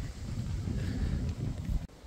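Steady low rumble of a light wind buffeting the microphone on the Via Francigena GR145 trail, a soft continuous rush with slight gusts, no voices.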